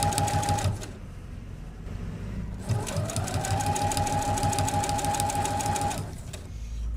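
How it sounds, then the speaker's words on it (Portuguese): Sewing machine stitching a long fabric strip for a Christmas wall hanging, whirring steadily and close for most of the clip with a brief pause partway through. "venho com a largura do pé de máquina, costurando essa tira."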